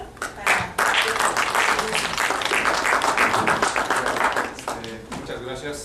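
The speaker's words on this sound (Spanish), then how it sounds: "le damos un fuerte aplauso al doctor" A lecture-hall audience at a talk on photovoltaic systems gives the guest doctor a loud burst of applause. It swells quickly, stays dense for several seconds, then thins out as a voice starts speaking.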